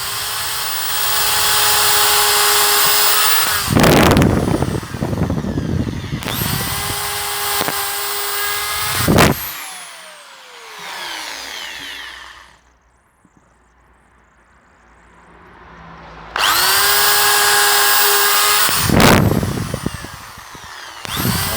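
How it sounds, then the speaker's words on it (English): A power drill whirs in repeated bursts, biting into wood, with short pauses and a quiet gap between runs; no speech. "so I can drill 2 holes at the same time."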